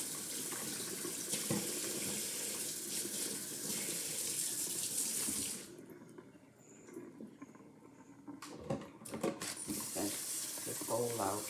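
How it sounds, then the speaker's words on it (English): Water runs from a kitchen faucet to rinse a bowl in the sink, a steady rushing stream for several seconds, then a pause with clinks and handling sounds before the flow resumes. "I'm gonna rinse this off."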